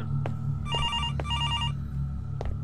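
A telephone rings in the horror video game Araya, with two electronic trilling bursts close together. A low ambient drone from the game sits beneath them, and no one speaks over the rings.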